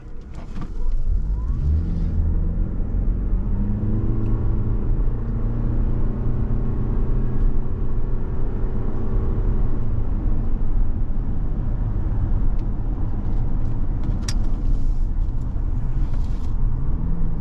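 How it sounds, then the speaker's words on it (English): A 2023 Toyota RAV4 XLE Hybrid engine roars steadily as the SUV accelerates hard from a stop and gathers speed, a continuous loud rumble with rising engine tone and no talking. "that's pretty noisy taking off when you got your foot down to get it up to speed"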